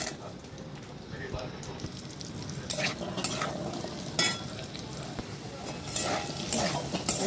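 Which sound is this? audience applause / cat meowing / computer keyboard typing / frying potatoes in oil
frying potatoes in oil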